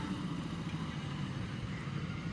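A vehicle carrying children drives off, its engine a faint, distant idle-like rumble blending into soft background noise.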